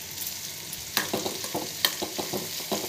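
Drumstick pieces hit a pan of fried onions and hiss in a steady, moderate sizzle, with sharp clinks of a spatula against the pan at irregular intervals.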